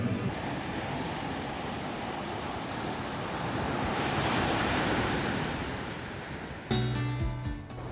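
Continuous wash of ocean surf rolling onto a beach in front of a hotel near Estepona, Spain, a broad steady roar with gentle swells, ending in a short burst of handling noise.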